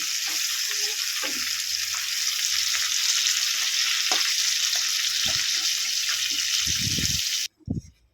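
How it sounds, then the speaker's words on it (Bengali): Sliced flat beans and potatoes fry in hot oil in a pan with a loud, steady sizzle and a few stirring knocks, and the hiss cuts off abruptly near the end. "সিমটা কিন্তু একটু ভেজে নিলে কী হবে সিমের যে একটা গন্ধ থাকে তেলেতে ভেজে নিলে গন্ধটা কিন্তু চলে যাবে"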